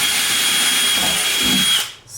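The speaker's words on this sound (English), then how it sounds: "big drill bit's coming out." A power drill with a big drill bit whines loudly and steadily at close range, then winds down abruptly near the end.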